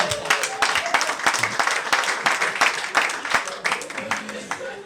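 A comedy show audience gives the comedian ERIKIZO a dense, sustained round of applause as he is welcomed on stage, with many hands clapping close and loud and crowd noise mixed in.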